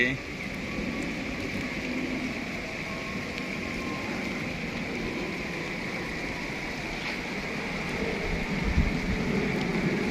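Continuous hiss of rain with a low rumbling background, steady and moderately loud from start to finish.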